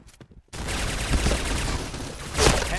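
Shotgun blasts in the first-person shooter Point Blank, a short quiet start with faint clicks then a loud, dense burst of gunfire sustained to the end, with a heavier shot near the close.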